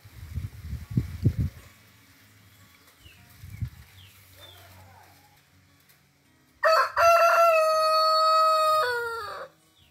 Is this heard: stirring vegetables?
no